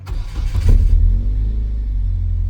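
A freshly repaired car engine cranks and catches, then revs up loudly and settles into a strong, steady idle close by.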